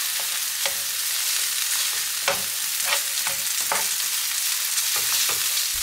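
Rice frying in a pan for omurice, seasoned with salt and black pepper, a steady close sizzle with repeated scraping stirs of a spatula through the grains.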